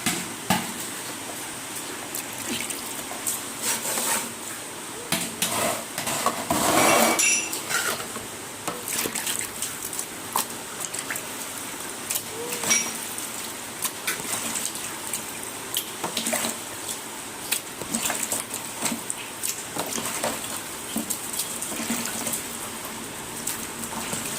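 Raw chicken being washed under running water for a chicken and potato dish, a steady tap-and-sink wash with splashing and a louder burst of knocking and sloshing partway through, no voices.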